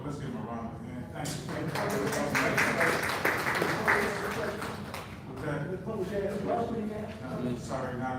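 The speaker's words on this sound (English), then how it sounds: "Council, let's give him a round of applause." People clap at a city council meeting, a scattered patter of hands that swells in the middle and then thins, heard at moderate level beneath a speaking voice.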